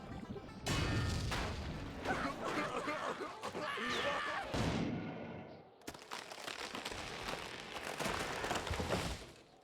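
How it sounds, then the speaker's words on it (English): Explosions and crashing effects in The SpongeBob Movie video game: a dense run of loud booms and bursts that fills nearly the whole stretch, broken by a brief drop in the middle, with a few faint vocal sounds mixed in. "hit the second switch with the explosion"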